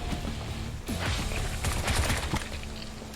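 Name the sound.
pistol gunshots in the video game Bright Memory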